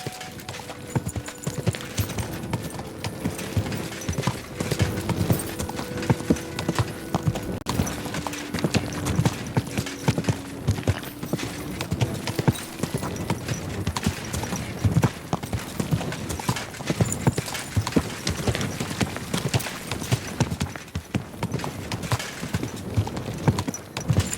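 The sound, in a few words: horse hooves and neighing in a video game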